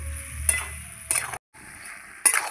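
Shrimp curry with taro and potato is stir-fried in a pan: a soft close sizzle broken by three short bursts of spatula scraping and stirring, with a brief pause near the end.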